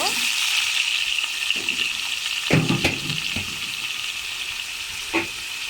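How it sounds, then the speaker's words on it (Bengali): Eggplant and potato frying together in a little oil in a home kitchen, a continuous bright sizzle with a few louder clatters and stirring knocks from the pan. "সামান্য একটু তেল দিয়ে বেগুনটাকে প্রথমে ভেজে নিব। আলু বেগুনটা একসাথে ভেজে নিব।"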